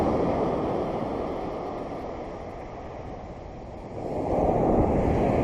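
Waves wash onto Mai Khao Beach in Thalang, Phuket, next to the airport, in a broad, continuous roar, easing off slightly and then swelling again as another breaker rolls in.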